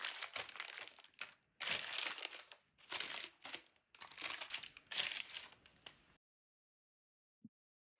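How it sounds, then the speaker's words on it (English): Parchment paper is crumpled by hand to line a baking pan for focaccia, five bursts of crisp crinkling separated by short pauses, close and clear, followed by silence and one soft tap. "I line the pan with parchment paper and oil it well."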